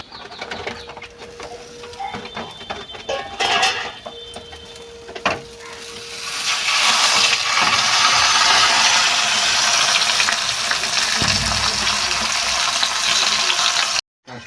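Oil sizzles in a hot pan before banana-leaf steamed fish (bhapa mach) is cooked, first as scattered clinks and crackles, then a steady, fairly loud broadband hiss for about eight seconds before stopping abruptly.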